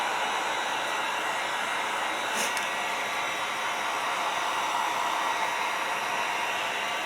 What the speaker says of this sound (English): keeping your heat gun quite a ways back so it doesn't melt the plastic